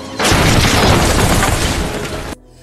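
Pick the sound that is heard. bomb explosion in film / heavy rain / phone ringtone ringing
bomb explosion in film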